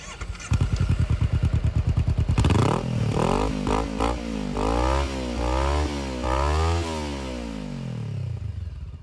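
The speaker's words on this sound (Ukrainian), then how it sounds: "А звук у цього мотоцикла достатньо класний, тому що встановлена прямоточна система ще з Японії." A 2017 Honda CBR 400R motorcycle with a straight-through exhaust idles with a rapid, even pulse, then revs repeatedly in loud, close blips that rise and fall, each throttle burst snarling sharply before dropping back.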